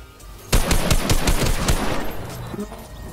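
Hand cannon gunfire in the Fortnite video game: a rapid burst of loud, punchy shots in quick succession, then a decaying tail with faint game sounds and no talking.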